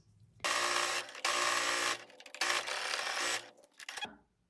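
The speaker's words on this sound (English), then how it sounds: "this is where I'm sewing my 1/4 inch seam allowance" A sewing machine stitches a quarter-inch seam on a memory bear in three loud, steady whirring bursts with short pauses between, ending in a brief final run.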